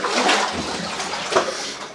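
Water sloshing and splashing around boots while walking inside the Porter Idaho Mine, a steady, fairly close rush of watery noise with one louder splash near the end.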